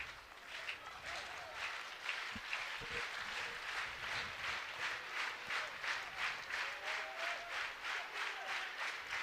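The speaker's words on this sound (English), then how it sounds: "Much of this Sunday afternoon crowd on its feet in Oxford." A Sunday afternoon college baseball crowd at Swayze Field in Oxford, Ole Miss hosting LSU, claps and cheers on its feet, a sustained wash of applause with a steady rhythmic pulse of unison clapping.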